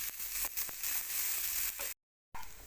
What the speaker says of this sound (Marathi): तेल टाकल्यामुळे या शेंगा ज्या आहेत त्या व्यवस्थित भाजल्या जातील